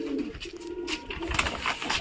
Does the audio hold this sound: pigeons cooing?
yes